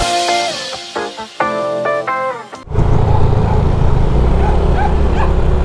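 A pet dog riding in a vehicle whimpers and yips with high, wavering cries for a few seconds, then gives way to a loud, steady rumble of the moving car filling the rest.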